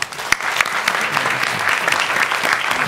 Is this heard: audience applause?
yes